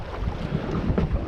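Strong wind roars across the microphone aboard a fishing boat on a stormy day while longlines are being checked, a steady close rumble with gusts swelling around the middle of the moment.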